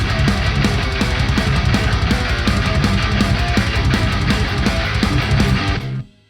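A loud, dense programmed drum beat with doubled-up rapid snare hits layered over kick and cymbals, driving steadily before cutting off abruptly.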